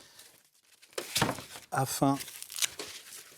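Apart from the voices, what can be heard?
unpacking a rolling shutter from its packaging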